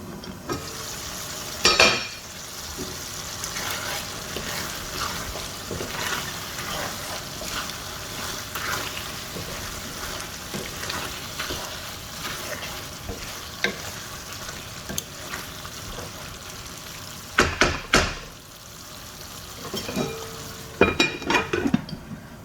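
Chicken liver curry sizzling and frying in a pan for several seconds, with occasional stirring and a few louder clinks and scrapes of a utensil, steady and close with no talking.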